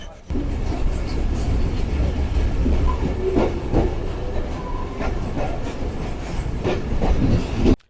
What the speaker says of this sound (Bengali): আমাদের ট্রেন ছেড়ে দিল মেহেরুল্লাহ নগর রেলওয়ে স্টেশন